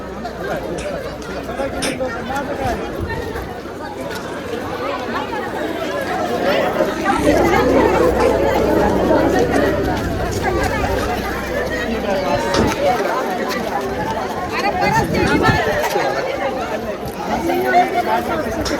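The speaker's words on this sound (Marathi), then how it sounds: "गर्दी बघा गर्दी" Crowd of trekkers chattering on the Bhimashankar trek: a dense, steady hubbub of many overlapping voices nearby, rising slightly in the middle, with footsteps and bustle mixed in.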